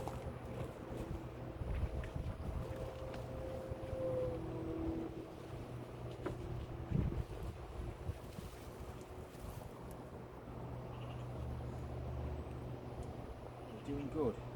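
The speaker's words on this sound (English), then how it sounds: "it's still a bit windy now" Steady wind buffeting the microphone outdoors, a low continuous rumble with gusts, while a person talks over it.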